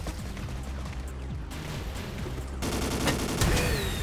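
Gunfire in the video game Ace of Spades, a steady burst of rapid shots that grows louder and denser partway through, with no talk.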